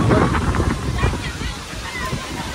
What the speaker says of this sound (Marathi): वादळ वारा सगळाच झाले